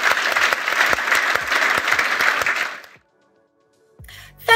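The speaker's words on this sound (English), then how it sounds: "Join me, please, in a warm round of applause" A warm round of applause from an audience at the close of a leadership talk: steady, close clapping for about three seconds that stops abruptly, followed by silence and a short, different sound.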